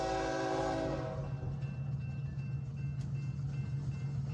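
A BNSF train sounds a loud, chord-like horn blast that cuts off after about a second. A steady low rumble of the passing train continues beneath it.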